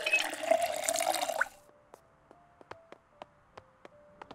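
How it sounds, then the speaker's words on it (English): In the video game Project Zomboid, water runs from a tap with a hissing, splashing gush that stops abruptly, followed by a series of distinct single drips plinking at irregular intervals. "we'll fill our water."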